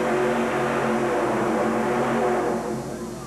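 Alcohol-burning Chevrolet-engined Austin Bantam Roadster racer at a monster truck show, engine screaming near 10,000 RPM, loud and steady for about two and a half seconds before easing off slightly.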